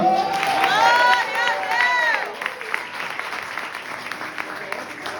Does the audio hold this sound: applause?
yes